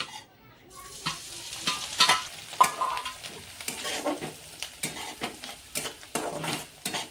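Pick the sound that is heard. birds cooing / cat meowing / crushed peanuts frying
crushed peanuts frying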